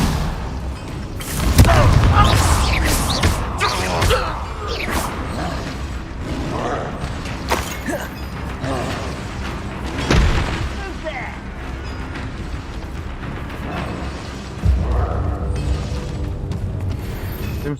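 In the Hogwarts Legacy video game, a Confringo fire spell lets off loud booming explosions amid rumbling, creaking combat noise, with one strong blast early and more bursts later.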